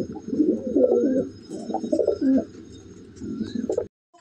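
Pigeons, including a handsome male, coo in close, clear bursts of throaty rolling calls, several phrases in a row before an abrupt stop, with no talking over them.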